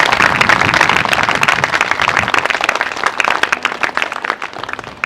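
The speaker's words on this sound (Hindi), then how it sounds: "सब ने आंखों को खोलेंगे और जोर से ताली बजाएं यीशु मसीह के लिए।" A congregation at a Hindi church service applauds loudly for Jesus Christ, a dense, close burst of many hands clapping that slowly thins and fades toward the end.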